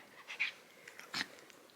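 A small pet dog gives a couple of brief, soft snuffling yelps or whines close by, with a short quiet gap between the two bursts.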